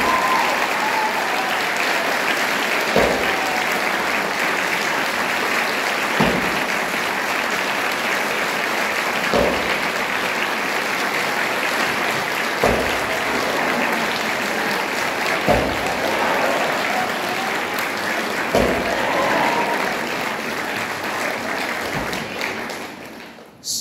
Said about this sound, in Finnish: Otetaan isot aplodit koko porukalle.